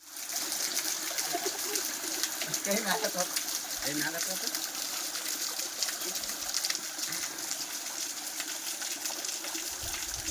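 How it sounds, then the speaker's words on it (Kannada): A hidden waterfall near Ramadurga pours with a steady broadband rush of falling water, constant throughout, while someone talks over it partway through. "ದೀವಾರ ನೋಡ್ರಿ ಎಷ್ಟು ನೀರು ಬೀಳೋದು ನೋಡಕ್ಕ"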